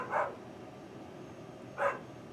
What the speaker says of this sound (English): We do have the dog barking in the background.